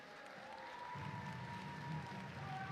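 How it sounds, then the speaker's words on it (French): An audience at an FTC robotics regional competition in Neuville-sur-Saône applauds a team, a dense, steady wash of clapping and crowd noise with faint tonal sounds running through it. "Allez, on peut les applaudir"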